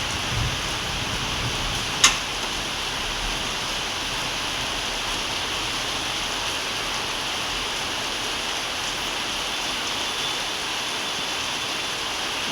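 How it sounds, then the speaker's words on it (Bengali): Heavy rain pours in a steady, dense hiss that stays constant and unbroken, with one brief sharp tick early on and no voices. "বৃষ্টি বৃষ্টি হচ্ছে এখন তো।"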